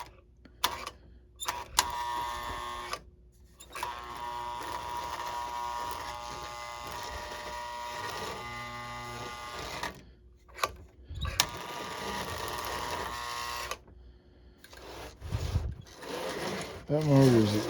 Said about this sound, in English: That motor is extremely tight, and I don't see why.